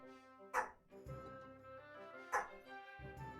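A small Pomeranian dog yaps in two sharp barks about two seconds apart, close and fairly loud, over a steady background of game music.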